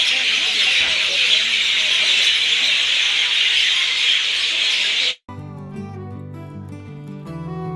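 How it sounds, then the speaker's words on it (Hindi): Many birds call together outdoors in a dense, steady chorus of high chirps and squeals that runs loud and unbroken for about five seconds, then cuts off abruptly to give way to music. "देखो कितने पंछी हैं और कितना अच्छा लग रहा है सुन के"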